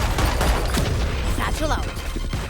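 Game combat in Valorant with a grenade going off amid rapid gunfire, loud and dense throughout, with a voice talking over the action.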